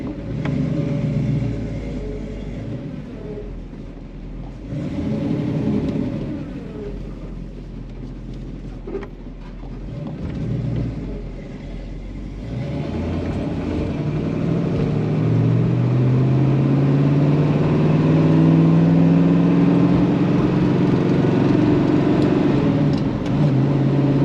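A 1968 Chevelle SS 396 with its 396 engine rumbles while driving on the road, a deep steady drone that swells as the car accelerates and the revs climb through the gears, with road noise underneath and no talking.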